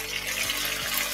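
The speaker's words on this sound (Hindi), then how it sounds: "अब इसके अंदर मैं डालूंगी थोड़ा सा सिरका" Vinegar poured into a pan for chicken patty filling makes a steady, close liquid pour, continuous for about a second with no speech over it.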